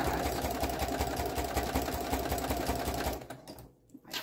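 A loud sewing machine stitching fabric hot pads, a fast steady mechanical whirring rattle running continuously for about three seconds, then stopping and briefly restarting.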